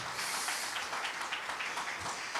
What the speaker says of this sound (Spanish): Dale un aplauso a Jesucristo en esta mañana.